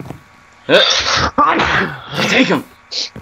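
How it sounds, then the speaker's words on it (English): A person lets out one short, sharp sneeze at the very end, just after a stretch of loud, excited shouting during a Minecraft play session. "I sneezed."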